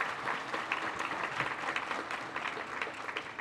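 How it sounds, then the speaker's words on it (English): Steady applause from a crowd at a small business awards ceremony, dense clapping that holds at an even level throughout with no voices rising above it. "Let's give all them a round of applause."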